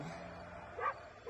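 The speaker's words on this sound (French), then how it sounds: "le chien de Pennessy aboie sans arrêt" A farm dog gives a single short bark, brief and fairly faint, over a quiet background.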